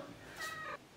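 A single short cat meow rises and falls in under half a second, fairly close but soft, with quiet background and no talking.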